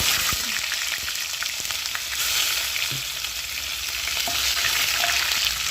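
Bitter gourd (karela) frying in oil for shukto, a constant close crackling sizzle with occasional faint stirring taps.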